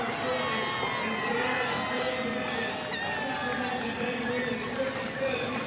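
Dense crowd of spectators roars and cheers continuously at the London Marathon finish near Buckingham Palace, a steady wall of voices with occasional shouts rising above.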